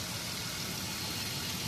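Steady close hum of a running engine with blow-by suction at the open oil filler cap, a continuous broadband rushing drone with no talk.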